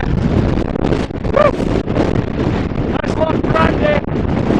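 Strong stormy wind buffeting a hillside near Loch Brandy in winter, a loud continuous roar battering the microphone, with a voice talking briefly through it.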